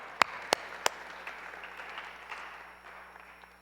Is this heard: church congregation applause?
yes